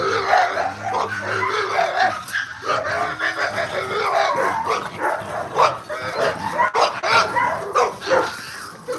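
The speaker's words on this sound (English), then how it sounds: "They get a little yappy sometimes. But other than that, they quiet dogs." Dogs bark and yap in quick, overlapping bursts, fairly close, with small whimpering yips between the louder barks.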